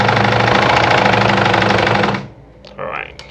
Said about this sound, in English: So I'll just sew through again